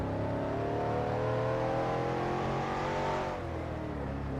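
Race car engine heard from inside the cockpit on a track's main straightaway, a loud, steady, close-up drone with rising harmonic whine that dips slightly near the end as the revs change, with no voices.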